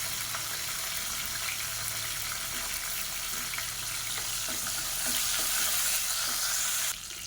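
Halved small onions and green chillies frying in hot oil, a dense continuous sizzle with faint stirring clicks, growing slightly louder before cutting off near the end, no voices.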